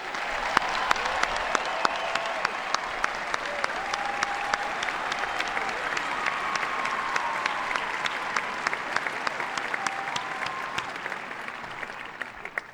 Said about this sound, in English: join me in giving our musicians a well-deserved round of applause?